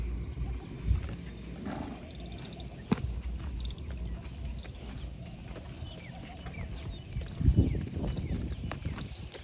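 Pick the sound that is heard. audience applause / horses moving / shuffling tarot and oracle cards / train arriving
horses moving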